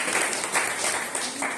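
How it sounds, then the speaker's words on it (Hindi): A church congregation applauding, a brief burst of many hands clapping together in a dense, even wash, fairly loud and close, with a voice faintly mixed in. "हालेलुया, ताली हो जाइए।"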